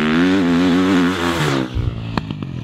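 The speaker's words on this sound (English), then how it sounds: "The four-stroke sound is much, much different. It's much lower." Four-stroke off-road dirt bike engine droning loud and close with a steady low harmonic tone, dropping away after about a second and a half into a few sharp clattering blips as the throttle closes.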